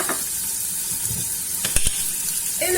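Meat and lentils sizzle steadily in hot oil in a pressure cooker for harira soup, a constant close frying hiss broken by a few sharp clatters from stirring.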